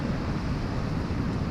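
Steady wind buffeting on a beach during sea fishing at Hornsea, a continuous low roar and rumble with no break, fairly faint and with no voices.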